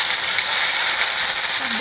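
Ground tomato paste hits hot oil in a pan while a singi fish cumin curry is being cooked, giving a loud, close, continuous sizzle and hiss.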